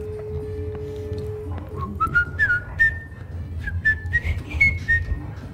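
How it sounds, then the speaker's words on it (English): A person whistles a short, wavering melody of rising and falling notes, fairly close and moderately loud, over a low background hum while playing Super Mario 64. "I don't know how terrible whistling sounds on these."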